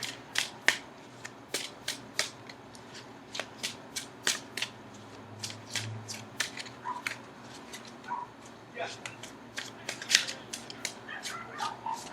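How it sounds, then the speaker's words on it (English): Tarot cards are shuffled over and over nearby, crisp riffling bursts and sharp flicks in an uneven, steady rhythm, with no talking. "I'm just going to shuffle for a few more seconds before I get to the reading."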